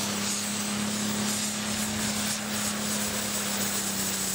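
Pulling tractor named Chain Reaction making a full pull down the track at a Kirkbride power weekend, its engine giving a steady, loud, continuous drone with a strong low hum that holds throughout, no talk.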